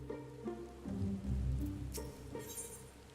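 Heavy rain pours steadily in the Final Fantasy XIV game world, a constant soft wash that swells and fades over a few seconds, with faint music tones underneath.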